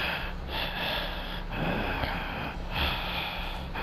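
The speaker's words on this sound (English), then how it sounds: "The way Meg is breathing." Meg from the Dead by Daylight video game breathing heavily, a close, continuous run of ragged panting gasps and snorting exhales in a steady rhythm.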